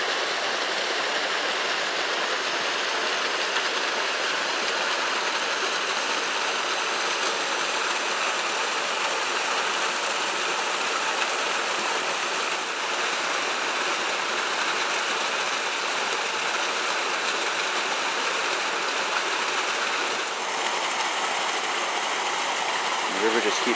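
Steady rush of a waterfall and flowing stream at Thoreau Falls, a broad continuous roar near at hand that holds at an even level throughout, with no talk.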